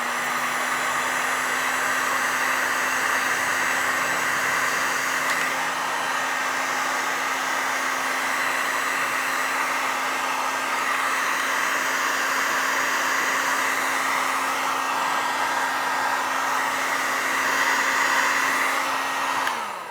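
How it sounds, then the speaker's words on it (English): Heat gun blowing a steady, loud whooshing hum for about twenty seconds while shrinking heat shrink tubing over a crimped connector, alone and unbroken until it cuts off at the end. "We'll heat shrink it then."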